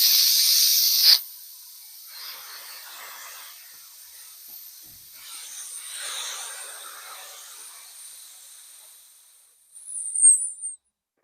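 Air hisses back into a homemade vacuum chamber through an opened valve: a loud burst of broadband hiss at the start, a long softer rushing hiss that slowly fades, then a brief louder squeal near the end.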